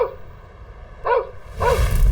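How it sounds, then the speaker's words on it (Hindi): A dog in an animated children's cartoon barks in two short bursts, one around the middle and one near the end, over a quiet background that grows a little noisier. "तभी एक कुत्ता भौं भौं कर रहा था"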